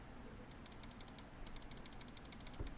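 Left button of a Roccat Kain 200 Aimo gaming mouse clicked over and over, crisp close clicks in two quick runs, the second longer, faint background otherwise.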